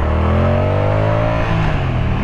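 A 2023 Moto Guzzi V100 Mandello sport tourer's engine revs hard, a loud, close, continuous throb with a rising then gently falling pitch under acceleration.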